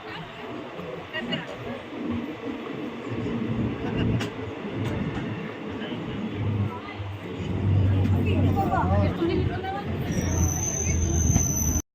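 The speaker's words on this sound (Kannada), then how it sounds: "ಟ್ರೈನ್ ಕೂಡ ಹೊರಟಿದೆ." A train pulls out while a crowded general-class railway carriage is full of overlapping passenger chatter, over a steady low rumble of the wheels and car that swells louder partway through.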